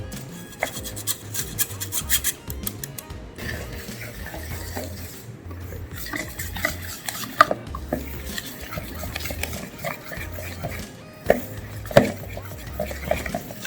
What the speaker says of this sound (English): we're going to take 1 teaspoon of baking powder, not baking soda, baking powder, and we're going to sift that into